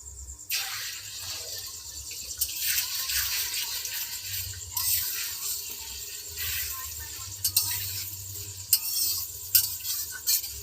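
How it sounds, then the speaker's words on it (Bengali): Eggs frying in hot oil in a pan while cooking an egg rice dish, a steady close sizzle and crackle with intermittent spattering pops running throughout. "তেল গরম হয়ে গেছে, ডিমগুলো ভেজে নেব।"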